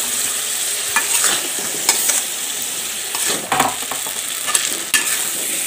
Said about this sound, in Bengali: হলুদের ফাঁকি দিয়ে দিচ্ছি, নাহলে মশলাটা পড়ে যাবে। হয়ে গেছে, এর মধ্যে টমেটো দিয়ে দিচ্ছি।